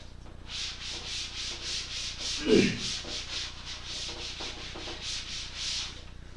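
A board eraser rubbed repeatedly across a board to wipe off writing, a steady series of about a dozen quick swishing strokes, close and moderately loud, with a brief heavier bump midway.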